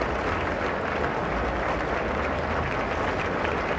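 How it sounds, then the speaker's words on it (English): Royal Ascot racecourse crowd applauding at the opening day meeting, a steady, dense wash of clapping from a large outdoor gathering, continuous and even throughout with no pauses. "The crowd applauding in their appreciation"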